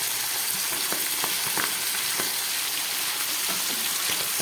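Pabda fish fry in a pan as a yogurt-mixed ground spice blend goes in, making a dense, continuous sizzle with small pops and crackles close by.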